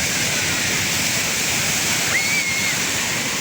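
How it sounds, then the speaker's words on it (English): Sea waves wash steadily over bare feet on Copacabana beach, a close, continuous hiss of surf with no break, and a brief thin whistle-like tone rises partway through. "it's so relaxing to have your feet caressed by the sea on the way to the gym"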